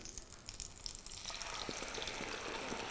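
Water pours into a pan of paneer gravy spiced with cardamom and green chilli, a soft, faint, steady hiss and trickle.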